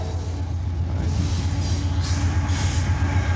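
An Abbeville switcher, locomotive 7017 CM44AC, hauls gondolas and covered hoppers into a rail siding with a steady, heavy rumble and a thin wheel squeal running throughout, close by and continuous.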